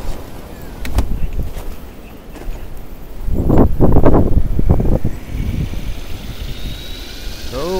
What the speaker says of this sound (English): it's 45 mile an hour winds, 60 gusts